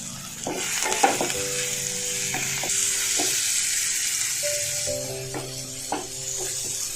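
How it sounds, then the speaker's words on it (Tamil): Onion and tomato sauté in a pan for Kerala-style kadala curry, a steady sizzle broken by repeated scraping stirs and clinks of a spoon against the pan, close and moderately loud, with no voices. "வெங்காயம் தக்காளி நல்லா வதங்கிட்டு"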